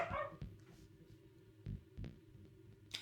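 Dogs bark in the background indoors, several short muffled barks spread across a few seconds behind synth and effects sounds.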